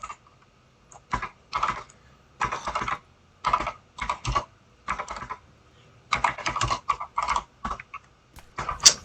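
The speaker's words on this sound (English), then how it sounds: "Okay, I'm gonna type it in." Bursts of typing on a computer keyboard during a South London 2 game, clustered runs of quick key clicks separated by short pauses, close and fairly loud with no talking.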